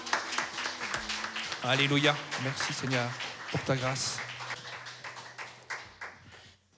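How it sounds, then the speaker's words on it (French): A church congregation claps during a French-language service, with a steady patter of applause running beneath a voice speaking and praising, the clapping fading toward the end. "Est-ce qu'on peut applaudir le Seigneur?"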